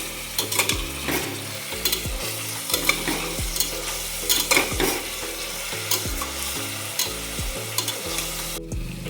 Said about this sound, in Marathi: आता आपल्याला कांदा व्यवस्थित परतून घ्यायचा आहे गोल्डन ब्राऊन होईपर्यंत